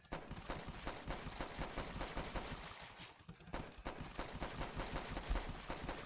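Rapid video-game gunfire aimed at zombies in The Last Stand, dense bursts of repeated shots at a steady pace across the whole stretch, fairly quiet, with no voice over it.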